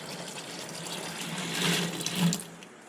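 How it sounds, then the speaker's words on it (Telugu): Water is poured into a bottle to mix a homemade plant fertilizer, giving a steady, close splashing pour that rises slightly in pitch and volume toward the end before easing off. "ఇప్పుడు బాటిల్ నీళ్ళు వేస్తాను"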